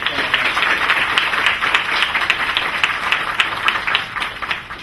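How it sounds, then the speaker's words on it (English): An audience applauds at a public event, a steady, dense burst of many hands clapping that holds fairly loud throughout before easing slightly at the end. "Can we give him a round of applause?"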